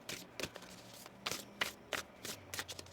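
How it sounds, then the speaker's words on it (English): Tarot cards being shuffled in a series of quick papery riffles and taps, close and soft, with no speech. "One more shuffle here."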